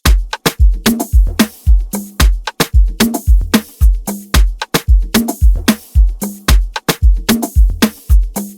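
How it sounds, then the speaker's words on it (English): An Afrobeat percussive loop of layered drum samples, with punchy kicks and a room-shot hit, repeats in a steady, tightly syncopated groove. It is loud and close, with no voices. "So with that percussive loop and my drum samples sounds like this."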